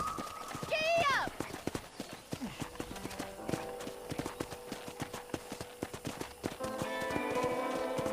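Horse hooves clip-clopping at a steady gallop in the Red Dead Redemption video game, with a whinny near the start and game dialogue and music running over the rhythmic hoofbeats.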